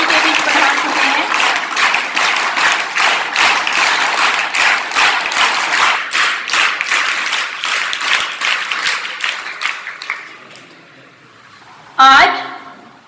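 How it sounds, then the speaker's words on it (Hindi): Loud audience applause fills a school hall at an anti-drug awareness event as a police DSP is welcomed, sustained clapping for about ten seconds before fading, then a brief loud burst near the end. "इनका एक बार जोरदार तालियों से सभी स्वागत कीजिए"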